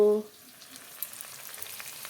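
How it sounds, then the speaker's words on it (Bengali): A ground paste of green chilli, dried chilli and cumin hits hot oil with browned onion, giving a steady soft sizzle and crackle after a brief tone at the start, close and without speech. "এখন মশলাগুলো তেলে দিয়ে দেব"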